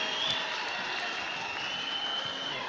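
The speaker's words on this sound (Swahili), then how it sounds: "Makofi jameni." Steady applause from a church congregation, a dense continuous clatter of clapping hands filling the hall at moderate level with no break.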